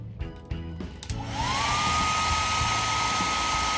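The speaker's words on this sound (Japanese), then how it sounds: "これはね、定格消費電力がね、1000W のドライヤーです。" A 1000 W hair dryer powered from a SUPAREE1000 portable power station clicks on and spins up with a rising whine, then settles into a loud, steady blowing roar.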